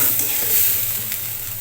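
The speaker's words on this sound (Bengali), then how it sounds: "আমি 2 চামচ কর্নফ্লাওয়ার জলে গুলিয়ে নিয়েছিলাম, সেটাকে দিয়ে দিচ্ছি।" Fried banana flower in a pan with a cornflour and water slurry being added, a loud close sizzle and bubbling hiss that holds steady through a brief moment.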